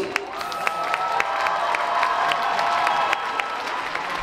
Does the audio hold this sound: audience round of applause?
yes